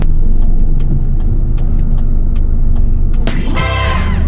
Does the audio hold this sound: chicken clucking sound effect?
no